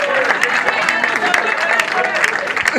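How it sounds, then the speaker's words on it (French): A crowd applauds at a ceremony honouring comedians, dense clapping mixed with cheering and crowd noise, loud and continuous throughout. "Applaudissez pour moi."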